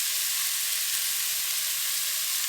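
Coriander seeds, sesame seeds and cumin fry in hot oil for a mushroom curry, giving a continuous, even, bright sizzle heard up close and fairly loud, with no voices.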